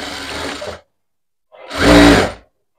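A sewing machine stitches a blouse in two short bursts, a brief run and then a louder, longer run after a pause of silence.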